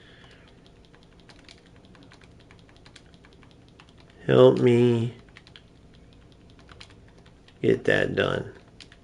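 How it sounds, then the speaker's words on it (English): Steady soft clicks and taps of typing on a game controller run beneath the whole stretch, with someone talking in two short bursts over them. "I'm typing with my controller"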